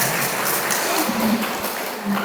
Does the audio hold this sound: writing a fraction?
no